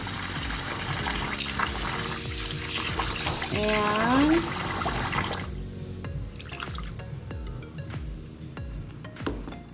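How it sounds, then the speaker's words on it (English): Tap water runs into a pot of freshly rinsed rice, a steady broadband pour with some splashing that thins out after the first half, under a speaking voice. "now you fill up the rice with water"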